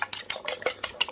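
Eggs seasoned with salt and black pepper are beaten in a plate with a fork or whisk, giving a quick run of rhythmic clinking and scraping strokes, close and fairly quiet, with no talking.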